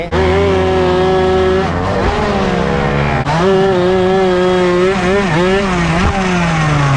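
A Honda Nova 110 motorcycle engine revs hard and close, its tone climbing and dipping as the throttle rises and falls, loud and continuous throughout.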